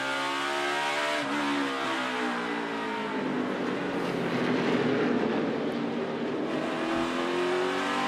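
A NASCAR Cup Series race car at Martinsville Speedway, its engine droning loudly and steadily as it rolls through a corner, the pitch dipping and climbing again, with continuous car noise throughout and no talking.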